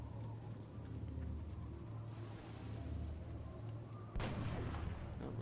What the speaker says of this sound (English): I'm just going to throw some grenades at this one